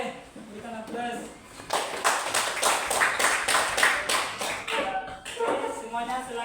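Students clap together in a classroom after a group presentation, a few seconds of brisk, fairly close applause, with a teacher talking just before and after.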